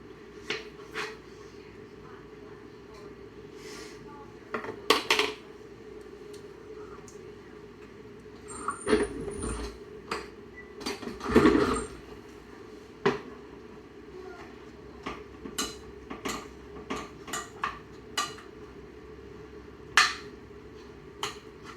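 Baby Yukon Gold potatoes with garlic are mashed in a pot in a home kitchen, giving irregular close knocks and clacks with quiet gaps, a couple of louder thumps, and a low steady hum underneath.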